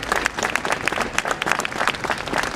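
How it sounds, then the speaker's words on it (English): Audience at a community market-square event gives a loud, dense round of clapping, many hands close by in a continuous burst with no talk over it. "There is a huge clap for Mariam's father"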